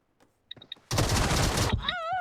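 Gunfire in the PUBG Mobile battle royale game, a dense roughly one-second burst of rapid shots after a few short clicks, followed by a warbling electronic tone.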